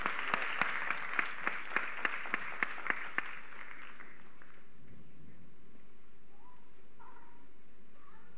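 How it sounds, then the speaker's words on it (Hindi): An audience at a live classical dance performance claps in a burst of sharp, rhythmic applause that fades out after about three seconds, leaving quiet ambience. "आपकी तालियों के साथ उत्साहवर्धन यहाँ पर कलाकारों का।"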